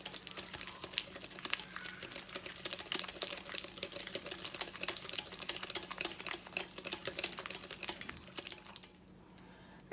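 A whisk beats softened butter in a bowl, rapid dense clicking and tapping strokes running continuously and fairly close, then stopping abruptly near the end.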